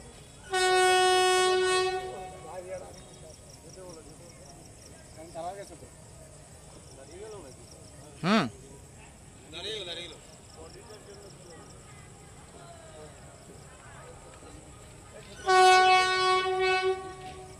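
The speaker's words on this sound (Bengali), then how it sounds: "আরেকটি ট্রেন কিন্তু এই ঘটনার জেরে রীতিমতো দাঁড়িয়ে পড়েছে এবং বারবার সে হুইসেল দিচ্ছে" A train halted near the Milanpally rail gate SK279 by Aluabari Road sounds its loud, tonal horn in two long blasts, one at the start and one near the end, with quieter rumbling and faint voices between them.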